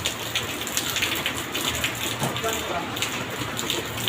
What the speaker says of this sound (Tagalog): tinila na kaunti yung ulan